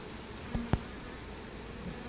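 Honey bees drone faintly around an open, messy hive, a soft steady buzz with two brief nearby taps or knocks early on, quiet overall with no talking.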